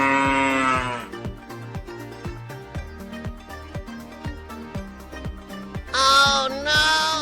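A cow moos in a cartoon animal-crossing scene, with a long tonal moo at the start and two more moos near the end over a plinking musical backing.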